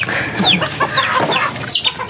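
Chickens cluck busily up close, overlapping squawks and chatter from several birds filling the yard.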